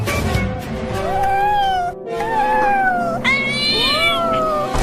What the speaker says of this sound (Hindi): ये बिल्ली इतना बोल क्यों रही है, वो भी हमारे पास आकर